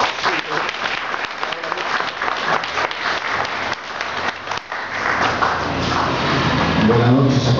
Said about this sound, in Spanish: Fuertes palmas para él, por favor.